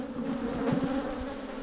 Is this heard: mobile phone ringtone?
no